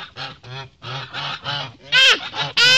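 Several loud, nasal goose honks in quick succession, close by, with the calls growing harsher and louder toward the end.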